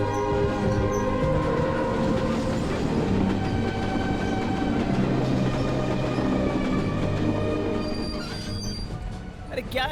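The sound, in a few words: train stopping at a station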